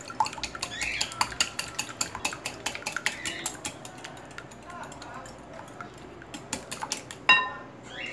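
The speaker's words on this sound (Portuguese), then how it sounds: "Vamos dar uma batidinha nesse ovo" An egg is tapped against a hard edge while making mini coffee cake batter, giving a run of sharp, light clicks and knocks close by amid kitchen clatter, with a voice speaking.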